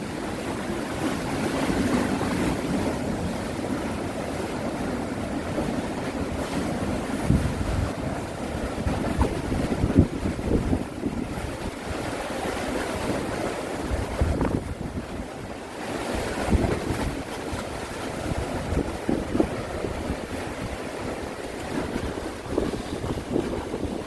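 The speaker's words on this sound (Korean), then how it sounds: "가끔씩 가다 큰 파도가 오면 물이 튀어 오릅니다" Ocean waves at Ingu harbor roll in continuously with a deep, rumbling surge, and occasional bigger waves throw up splashing water. Heavy wind buffets the microphone throughout.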